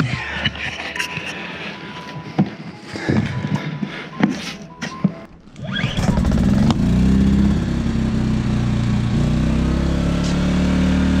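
A Predator 2000-watt inverter generator starts up after several seconds of clattering handling noises, then settles into a loud, steady running drone close by.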